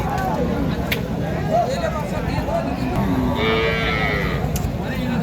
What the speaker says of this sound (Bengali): গাভী এবং বাছুরগুলো আমদানি হয়েছে আমরা দেখছি